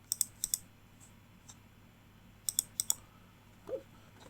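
Typing on a computer keyboard comes in short clusters of sharp, close key clicks with brief pauses between bursts, quiet surroundings and no talk.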